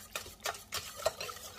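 A spoon works through basbousa batter as milk is mixed in, making four or five quick, close scraping swirls against the bowl, short and uneven in rhythm, with no voice.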